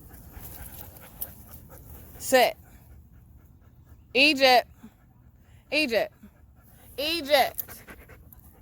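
A female dog at a dog park pants in several short, close bursts of quick breaths, with a person giving her commands between them.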